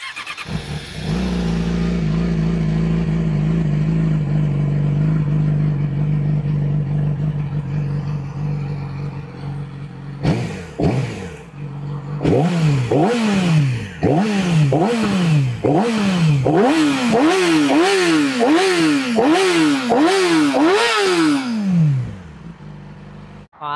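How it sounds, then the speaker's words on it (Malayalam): A Yamaha R6 motorcycle fitted with a Toce full exhaust system idles with a loud, low rumble, then revs repeatedly in sharp rising and falling bursts, close and loud throughout. "R6ൻ്റെ എക്സോസ്റ്റ് നോട്ട് കേട്ട് നോക്കാം."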